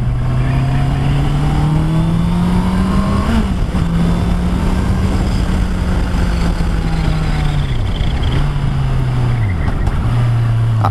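A Honda CBR650R A2 sport motorcycle is ridden on the road, its engine droning loudly up close with steady pitch shifts as it accelerates and eases off, wind rush mixed in.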